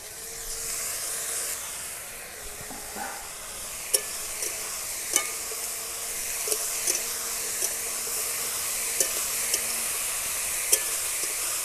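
Carrots stir-fry in oil in a wok for egg chowmein. A steady hissing sizzle carries the whole time, with sharp spatula taps and scrapes coming at intervals.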